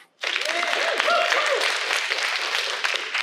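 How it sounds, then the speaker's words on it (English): An audience at a civic summit breaks into applause, starting abruptly and holding as a dense, steady wash of clapping for about three seconds with no talk over it. "Please give them a round of applause."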